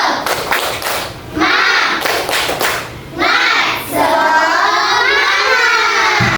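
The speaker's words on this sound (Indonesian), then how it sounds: "Jadi di sini SB Ibu minta tepuk semangat." Schoolchildren in a classroom perform a rhythmic spirit clap, bursts of loud unison claps in quick patterns alternating with shouted chanting from the group, all close and energetic.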